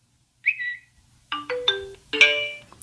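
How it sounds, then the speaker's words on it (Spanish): A smartwatch call ringtone plays a short bright chime followed by a rising melodic phrase of clear electronic tones, alone and at moderate volume. "Contamos con tono para notificaciones y también ringtones para llamadas."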